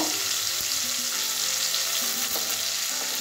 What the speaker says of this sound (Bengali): আমার পটলগুলো লাল লাল করে ভাজা হয়ে গেছে, হালকা ভেজে নিয়েছি।